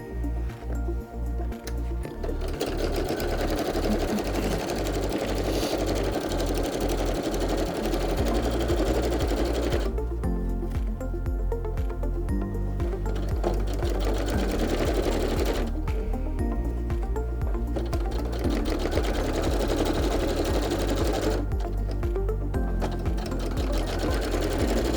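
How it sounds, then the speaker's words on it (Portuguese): A sewing machine topstitching Santaflex for a men's toiletry bag, loud and close, in long runs of fast, steady needle chatter broken by brief pauses. "Vamos lá para a máquina."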